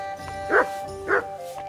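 A dog in the medieval role-playing game Kingdom Come: Deliverance II gives two short, yipping barks about half a second apart, close and moderately loud over a steady game background.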